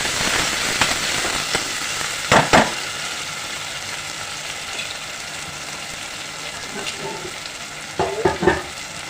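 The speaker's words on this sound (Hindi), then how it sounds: "और ये टमाटर गए इसमें" Onion and tomatoes fry in a pan with a steady loud sizzle throughout, broken by a few sharp scraping stirs and clatters near the middle and end.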